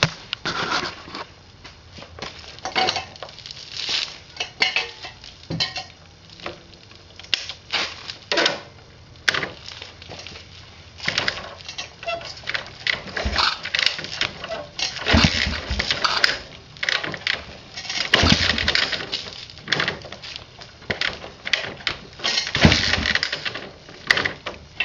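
Track build motorcycle that has been sitting a while, cranked in an attempt to start it: irregular mechanical clattering and sputtering bursts, close by, uneven and stop-start with no voices.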